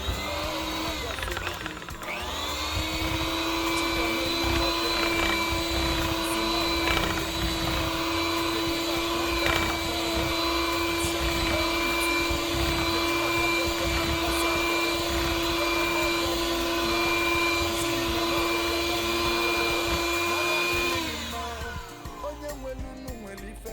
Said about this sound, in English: I think I'm gonna whisk it a little bit more